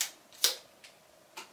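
Clockwork slow shutter of a GDR-era Voigtlander camera running, a series of four sharp close clicks and ticks spaced unevenly over a faint mechanical whir, quiet and without speech.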